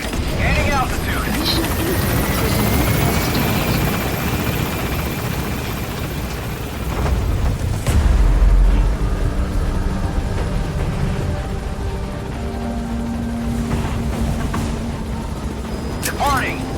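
Helicopter rotor drone from the Metal Gear Solid V Pequod lifting off, a steady loud rumble with engine whine, a heavy thump midway, then a quieter hum with tonal game sounds.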